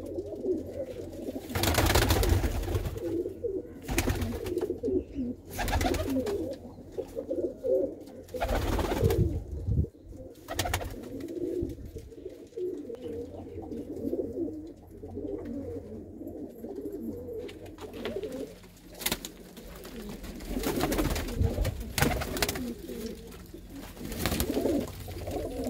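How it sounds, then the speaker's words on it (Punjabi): Black-eyed Mirab pigeons coo in a loft, repeated low rolling calls close by, broken by loud thumps and handling bangs over nearly half a minute. "ਇਹ ਹੈ ਜੀ ਆਪਣੇ ਵੱਡੇ ਕਬੂਤਰ।"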